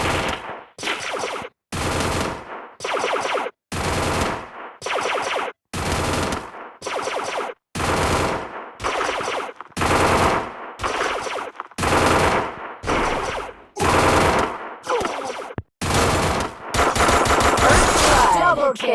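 Sustained automatic gunfire from a squad battle video game, loud and close, firing in repeated bursts separated by brief gaps and ending in a longer continuous volley.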